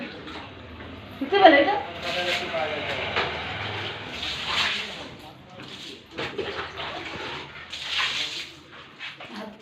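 Water splashes and pours into buckets, a broad rushing wash running under close, steady conversation between women.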